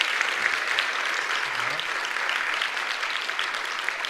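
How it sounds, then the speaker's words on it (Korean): Sustained applause from a church congregation at a children's program graduation, steady clapping lasting the whole stretch at moderate distance, with faint murmuring underneath. "박수로 축하하겠습니다."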